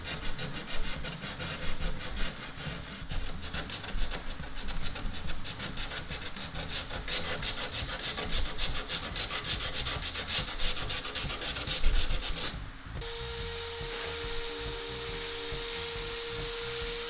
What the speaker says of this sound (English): And then more tight space hand sanding.